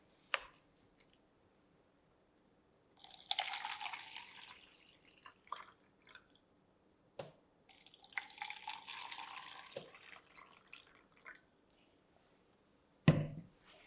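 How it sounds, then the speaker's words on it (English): Warm water runs from a tap into glasses in short bursts, separated by quiet gaps, clicks and drips, close and fairly soft. "what you're going to want to do first is fill the glasses with warm water"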